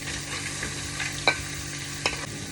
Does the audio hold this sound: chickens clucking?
no